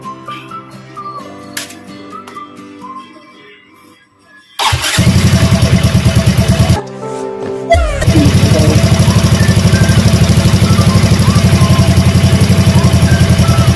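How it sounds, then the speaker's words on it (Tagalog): A Yamaha Mio i 125 scooter is fitted with a pit bike starter motor. Cranking leads to the engine starting with a loud burst, then a brief stop, then a second start into a steady, loud, close idle. "nung salpak natin yung kanyang starter motor na pets bike. So, tingnan nga natin kung anong tunog."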